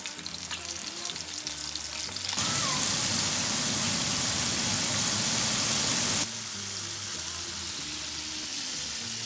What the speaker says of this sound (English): you're going to fry them until they're a little golden brown.